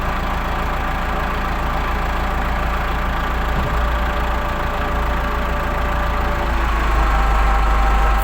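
A Case 695 tractor-loader's engine idles steadily and close by, a low continuous rumble with a slight shift in tone partway through as the hydraulics work.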